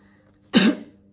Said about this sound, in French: Je tousse ce matin.